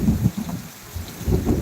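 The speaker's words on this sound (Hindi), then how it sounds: "तो देख लें भैया ये बारिश का नज़ारा भैया" Heavy rain falls with rumbling thunder in Gujarat, a dense low roar of downpour swelling and easing, close and loud, with no voices.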